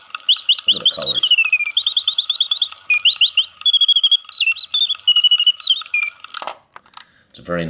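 Close, bright warbling trills come from an antique Antoine Salmon singing bird box automaton in a guilloche and enamel case. Rapid oscillating notes run almost nonstop for about six seconds, then stop with a few mechanical clicks.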